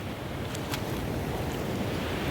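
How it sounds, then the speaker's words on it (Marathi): Sea waves on a beach at Shrivardhan on the Konkan coast make a steady, dense rushing wash, loud and close, with brief airy swells and no talking. "लाटा खतरनाक येतात ग"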